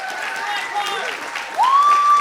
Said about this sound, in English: One final round of applause for Linwood King and Doug Dowler, please.